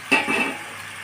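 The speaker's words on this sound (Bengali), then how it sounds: "এখন এর মধ্যে আমি মাংসগুলো দিয়ে দেবো" Pieces of meat are dropped into a pan of hot oil and cooked spices, making a short clatter followed by a brief sizzling hiss that fades quickly.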